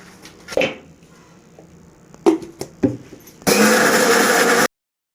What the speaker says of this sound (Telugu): ఇలా పెద్ద మిక్సీకి తీసుకుని ముందుగా ఎండుమిరపకాయలు అయితే మిక్సీ చేసుకోవాలండి